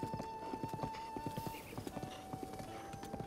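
A horse's hooves clip-clop in a steady galloping rhythm in Zelda: Breath of the Wild, accompanied by game music and a faint whinny. The riding sounds carry on without talk.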